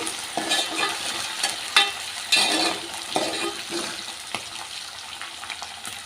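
Curry leaves, onions and green chilies sautéing in oil for a Nellore-style fish curry, giving a steady sizzle broken by a series of spatula scrapes and clatters against the pan, moderately close.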